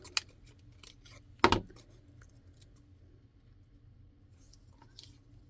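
A single sharp snip of scissors rounding off paper corners in a journal, heard once and close up, followed by quiet room tone with faint light rustling.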